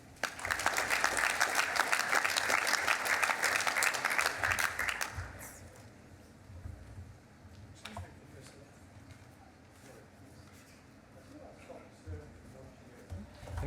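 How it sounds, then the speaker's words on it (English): Audience at a Victoria University graduation ceremony applauding loudly for about five seconds, then fading into quieter room murmur with scattered claps and occasional voices. "And clapping loudly enough."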